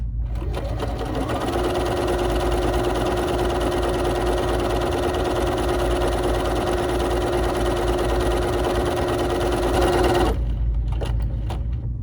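BERNINA 3 Series sewing machine running a decorative stitch, a loud continuous motorized whir close by for about ten seconds before it stops.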